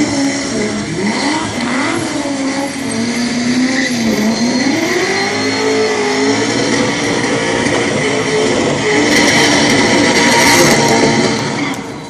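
A BMW M3 E30 drifts at a Falken drift show in Luxembourg, its engine revving hard and wailing through rising and falling pitch sweeps with tire squeal, loud and close, with no talk over it.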